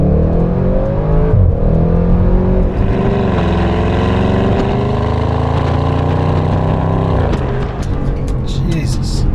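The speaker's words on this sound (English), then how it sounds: "I love the sound of the exhaust." Exhaust note of a tuned 700HP Audi RS6 Avant wagon while driving, a loud steady engine drone with rising and falling revs throughout, close and continuous.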